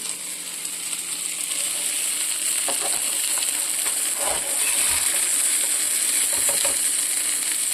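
Banana flower and oat cutlets fry in hot oil with a steady, bright sizzle throughout, while occasional clinks and scrapes of a utensil lifting them out break through up close.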